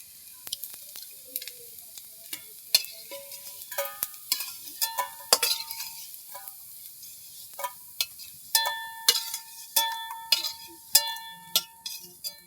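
Soybean chunks lifted out of hot oil in a frying pan, with scattered metallic scrapes and clinks of a utensil over a soft background sizzle, brief irregular taps coming close and clear.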